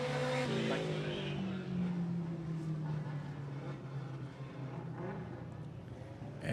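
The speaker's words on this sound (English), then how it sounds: "the car 93 of Bill Robinson, he goes into the spin cycle coming out of turn two" Race car engines drone around a speedway track as one car spins out, with a faint tire squeal and the engine note sliding under steady crowd and track noise.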